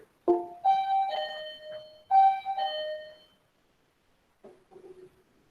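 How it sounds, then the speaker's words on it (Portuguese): A doorbell rings repeatedly as a prank, with clear two-tone chimes sounding several times in quick succession, then a fainter, softer chime near the end, with no talking. "famoso trote da campainha"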